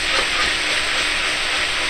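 Yuzu and soy hit a hot pan with garlic, giving a loud, continuous sizzle and hiss close up, with no talking over it.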